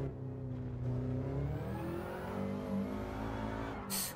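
A Subaru's engine in a racing video game, traction control off, whines steadily with shifting revs and harmonic tones, mid-level and continuous, with a brief bright burst of noise at the very end.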